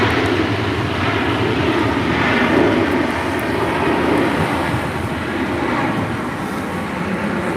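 A United Boeing 737 MAX 9 arriving at Los Angeles airport, a loud, continuous broadband jet roar that stays steady throughout with slight swelling.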